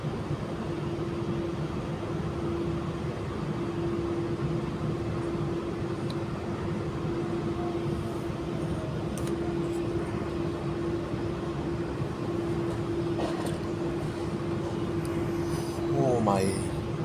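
Auckland Southern Line passenger train running between stations, a steady close rumble of wheels and traction with a constant hum, a few brief squeaks and rattles near the end.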